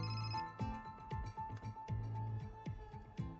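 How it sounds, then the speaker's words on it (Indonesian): A telephone ringtone playing a repeating melodic pattern of short tones, fairly soft and steady for a few seconds with no talk over it. "Aku mau angkat telepon dulu."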